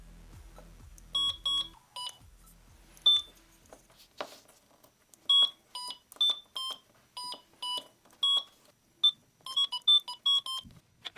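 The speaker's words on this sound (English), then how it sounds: "the Arduino Uno synth belted out tunes via the controller's 4 button inputs." Short electronic beeping notes from an Arduino Uno synth play in quick, uneven runs like a simple melody from a tiny speaker, with brief pauses between phrases.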